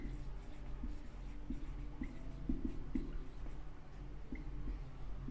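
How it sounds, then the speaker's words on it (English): Faint, irregular tapping and squeaky strokes of writing on a board during a physics lecture on capacitors, quiet against a steady low room hum. "Let me write it here so it will be more bold"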